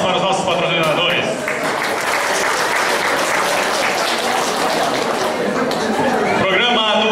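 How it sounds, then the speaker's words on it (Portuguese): An audience at a karaoke event applauds loudly and continuously, dense clapping mixed with crowd chatter and murmuring voices throughout. "Uma salva de palmas para os nossos patrocinadores."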